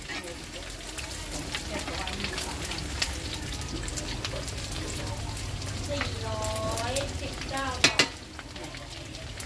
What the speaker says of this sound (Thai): หลังจากที่ทอดมาได้ประมาณ 20 นาทีก็จะได้เหลืองสวยประมาณนี้ครับ